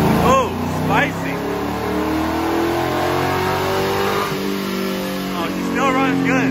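A daily driver car engine running on straight methanol on a dyno, revving hard with rising and falling harmonic sweeps, loud and close, with voices talking over it.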